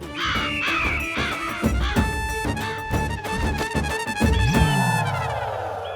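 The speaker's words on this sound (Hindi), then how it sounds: "आंखें खोलिए, कौवे आ गए।" Several crows cawing loudly and close by, harsh calls overlapping in a busy, repeated chorus with no pauses.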